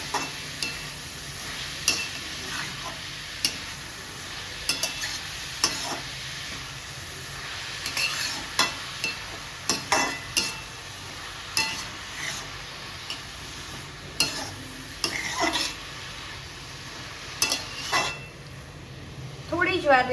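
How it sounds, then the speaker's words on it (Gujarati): Grated bottle gourd sautés over medium-high heat in a pan for a sweet halwa, with a steady low sizzle and repeated scraping stirs and spoon clinks throughout. "થોડી જ વારની અંદર દૂધી જે છે તે એકદમ સરસ રીતે શેકાઈ જશે।"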